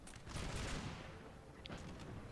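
Massed musket volleys in Napoleon: Total War crackle faintly from a distance as a dense, rolling fusillade, with a sharper report partway through.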